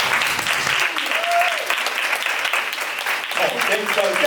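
Audience at a men's mental health conference in Houston breaks into sustained applause, dense and steady clapping filling the room throughout, with a few voices rising faintly amid it.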